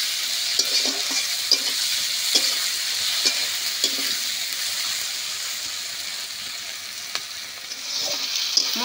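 Spices fry with four slit green chillies in hot oil for a rohu fish curry with ridge gourd and potato, producing a bright, continuous close sizzle with faint spatters and occasional soft stirring knocks.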